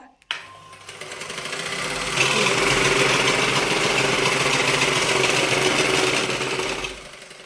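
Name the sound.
sewing machine running after switching it on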